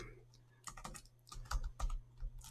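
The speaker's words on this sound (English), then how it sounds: "I'm going to type" Keys on a computer keyboard clatter in uneven bursts while someone types a web address into a browser title bar, the taps close and moderately quiet over a low steady hum.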